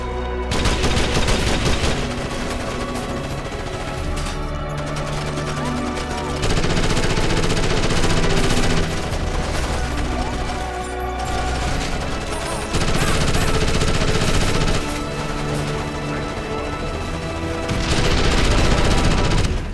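Loud rapid gunfire bursts in repeated volleys from a modern military shooter video game, with booming explosions and a thick wall of battle noise throughout.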